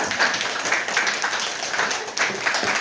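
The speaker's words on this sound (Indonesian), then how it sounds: "tepuk tangan buat kelompok" Classmates in a primary school lesson clap for a presenting group, a brief, moderately loud patter of children's hands with a few sharper individual claps, steady across the moment.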